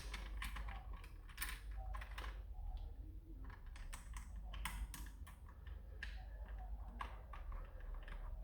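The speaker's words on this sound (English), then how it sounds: "Actually, we're gonna unscrew these two screws first." Screws being unscrewed from a toy foam blaster body, soft clicking and ratcheting taps of a small screwdriver, close and very quiet with no talk.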